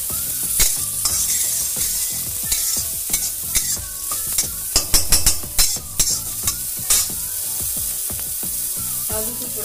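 Peas hit a hot pan of samosa filling, sizzling steadily while a spoon scrapes and stirs in quick irregular clacks, loud and close with no talking.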